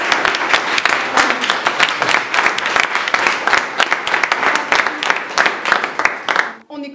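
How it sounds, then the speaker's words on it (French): A small group claps for themselves in a lively, close round of applause, with uneven hand claps overlapping and voices chattering, then fading out abruptly. "on s'applaudit déjà"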